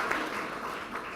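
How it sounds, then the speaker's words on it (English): Brief, faint applause from an audience at a drug treatment court graduation ceremony: a short patter of clapping from a distance. "And John and Carol right there, I want to give a special round of applause to."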